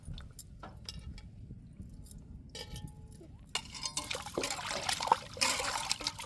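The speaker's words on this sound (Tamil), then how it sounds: "இப்போ நல்லா உரசியாச்சு தண்ணியை ஊற்றி அலசி எடுத்துக்கிறோம்" Water is poured over freshly cut fish (valai meen) that has been scrubbed with coarse rock salt, rinsing it in a vessel. A splashing, trickling wash swells up in the second half, with faint clinks from earlier handling.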